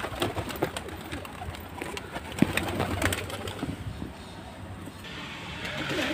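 A group of pigeons gather and mill about waiting for water, cooing softly and steadily nearby with light rustling, under faint background noise and a little indistinct talk.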